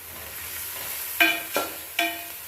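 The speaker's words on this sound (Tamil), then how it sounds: "ஹையில் வச்சுட்டு 2 நிமிஷம் வதங்கினா போதும்." Beans, carrot, cabbage and capsicum sauté on high heat for fried rice, a steady soft sizzle broken by three sharp scraping stir strokes in the second half, close by with no talk.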